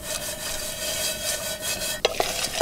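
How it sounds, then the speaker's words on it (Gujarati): Salted peanuts and turmeric are stirred in a little hot oil in a pan, giving a continuous close scraping and rubbing hiss with a few sharper clinks near the end. "એમાં હળદર નાખીએ, અને સીધા આપણા બી છે એ નાખી દઈએ, ખારી સિંગ. અને એકવાર આપણે એને હલાવી લઈએ."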